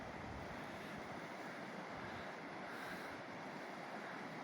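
A river flows under an old train bridge in Arkansas, a steady, broad rush of water mixed with wind buffeting the microphone. It runs loud and unbroken the whole time.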